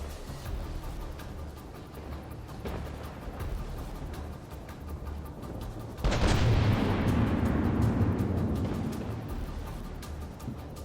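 An oil rig explodes in From the Depths: a sudden loud boom after several seconds of low rumbling gunfire, then a long roaring blast that slowly fades, with no talk.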